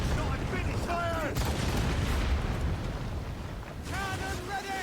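Ship cannons fire in the naval combat of Assassin's Creed Rogue, deep rumbling booms rolling under a busy battle din, while crew voices shout over it now and then.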